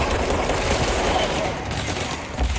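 Gunfire in the video game Control, a dense rattling fusillade of rapid shots heard close and loud throughout, with a voice faintly mixed in beneath it.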